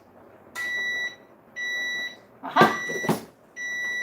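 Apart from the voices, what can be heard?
kitchen timer beeping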